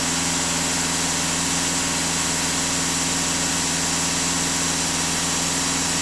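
Skoda Octavia 4x4 engine held at raised revs during DPF regeneration, a steady, even drone with a constant low hum and no change in pitch, continuous and close with no talking.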